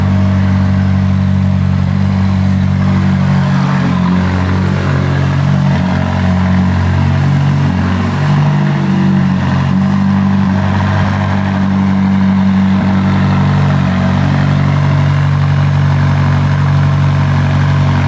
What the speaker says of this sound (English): So you get to hear a cold start of this 570. This has got a sports exhaust, by the way.